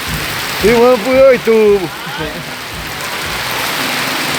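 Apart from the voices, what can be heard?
heavy rain falling with thunder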